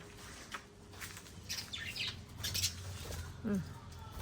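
Small birds chirp faintly and intermittently over a low background rumble, with a few brief flutters and tweets.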